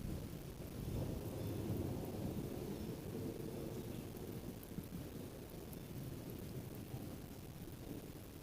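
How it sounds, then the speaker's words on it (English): A storm's thunder rolls as a long, low, continuous rumble over steady broadband hiss, with no sharp crack and no voices. "That's quite the rumble of thunder."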